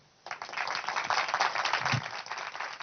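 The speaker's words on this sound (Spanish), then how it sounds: "Entonces pido un fuerte aplauso para Usman." An audience at an event breaks into sustained applause for a speaker presenting an animated film, a steady dense clapping that starts abruptly and holds at an even level throughout.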